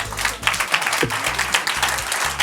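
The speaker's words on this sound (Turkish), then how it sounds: "Alkışlayalım bir." Steady applause from a crowd at a quiz night fills the clip, dense and continuous, with a low musical hum underneath.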